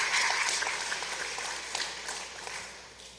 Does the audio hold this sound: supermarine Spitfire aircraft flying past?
no